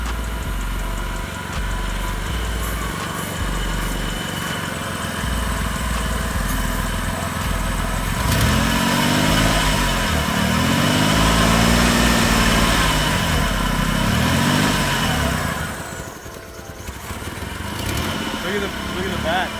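A car engine idles steadily through a seafoam treatment with a vacuum line hooked up, a continuous low rumble that swells slightly in the middle, with voices talking over it.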